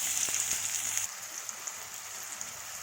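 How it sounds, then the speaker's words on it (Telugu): Chopped onions sizzle in hot oil in a kadai, giving a steady, hissing fry that starts a little louder and settles into a continuous crackle with faint pops. "ఆయిల్ వేడైపోయింది, ఆనియన్స్ వేసుకుందాం."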